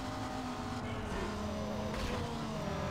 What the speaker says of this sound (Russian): Ламбуха, что ли, впереди газует?